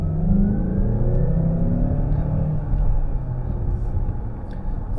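A 2024 Mazda CX-5 Akera accelerating up to about 70 heard from inside the cabin: a steady, loud low engine rumble and road roar with a rising drone, with no talking.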